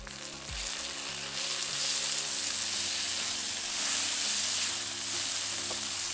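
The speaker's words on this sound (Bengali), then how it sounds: "এখন এর মধ্যে দিয়ে দেবো টমেটো কুচি" Chopped tomato fries with onions in a pan for a spiny gourd (kakrol) curry, sending up a steady, dense sizzle of hot oil that stays loud and close throughout, with a low background hum and no talking.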